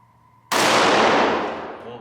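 A Canik TP9 Elite Combat handgun fires a single loud, sharp shot at a target, the report starting abruptly and ringing out as it decays over the following second and a half.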